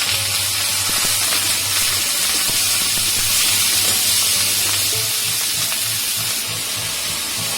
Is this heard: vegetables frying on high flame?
yes